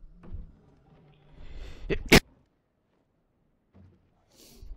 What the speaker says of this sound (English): oh man, that sneeze snuck up on me